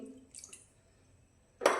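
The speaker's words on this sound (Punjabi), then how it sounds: "ਉਸੇ ਕੌਲੀ ਨਾਲ ਪਾਣੀ ਪਾ ਦੇਣੀ ਹੈ ਇੱਕ ਕੌਲੀ ਪਾਣੀ ਪਾਤਾ" A bowlful of water is poured into a pot of daliya, a brief close splash arriving at the end after a few faint clinks in an otherwise quiet kitchen.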